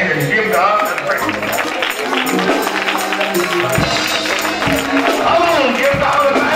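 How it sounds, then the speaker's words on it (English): A congregation claps hands in praise at a healing service, dense rapid clapping mixed with loud music and raised voices, the crowd sound filling the room. "Now clap your hands and give God the praise."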